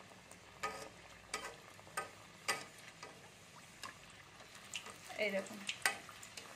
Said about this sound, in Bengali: এবার আমি আস্তে আস্তে একটা একটা করে ছাড়বো তেলেতে